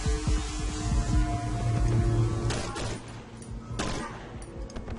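Rapid pistol shots from the survival horror game Cry Of Fear, a dense string of close, loud cracks running together before thinning into two or three separate bursts, with no talking.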